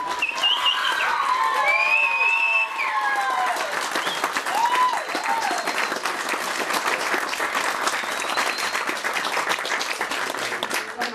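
Wedding guests at an open-air chapel on a lavender farm break into sustained applause and cheering after the couple's kiss. There are whistles and shouts early on over a steady, dense patter of clapping that lasts throughout.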